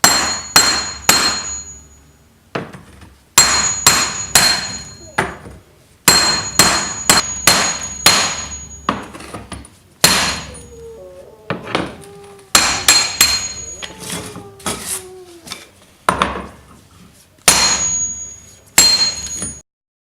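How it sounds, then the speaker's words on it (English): Hammer and chisel chipping old tile off a fireplace surround, sharp metallic clanks struck in quick bursts of three to five blows, separated by short pauses. The blows are loud and close, with faint scraping between them. "to rip them up by just chipping them with the hammer and a chisel"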